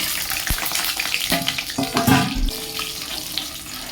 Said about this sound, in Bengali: বড়িগুলো ভেজে নেব